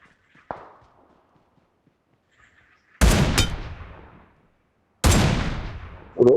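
Heavy gunshots in the battle royale game PUBG Battlegrounds ring out in three loud booming blasts, each with a long echoing tail, after a quiet stretch with faint footsteps.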